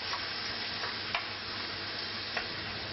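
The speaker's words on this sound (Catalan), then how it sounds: "A continuació afegim una culleradeta de farina i la fem sofregir un poquet." A spoonful of flour sautés in a pan with lamb ribs, giving a steady close sizzle with a few light scrape and stir taps over it.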